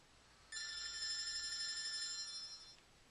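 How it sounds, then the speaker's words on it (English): A phone ringtone: a single bright electronic ring of steady tones lasting about two seconds, clear and alone in a quiet room. "normally my ringtone is this"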